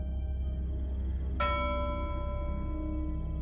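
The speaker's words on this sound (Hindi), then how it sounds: "अचानक पुराने लाइट हाउस के अंदर से घंटी बजने की आवाज आई।" A single bell strikes once inside an old lighthouse at night, its clear ringing tone decaying slowly over a steady low background rumble of the sea.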